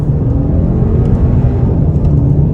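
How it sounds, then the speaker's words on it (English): A 2023 Hyundai Elantra N-Line accelerating in second gear, a loud, dense engine drone and road rumble heard from inside the cabin, holding steady throughout. "As soon as you start to lean into the gas pedal, the power kicks in and it feels linear."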